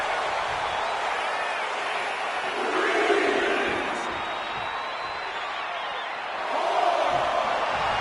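Wrestling arena crowd at a WWE Raw event, a broad steady roar of cheering and chanting that swells in waves, heard at a distance with a commentator's voice running over it.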